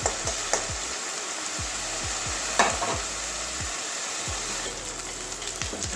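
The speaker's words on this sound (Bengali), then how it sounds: "তো এটা পেঁয়াজের সঙ্গে ভালো করে ভেজে নেবো" Chilli frying with onions in a pan makes a continuous sizzle with regular spoon taps and scrapes against the pan, keeping a steady rhythm with a louder clink near the middle.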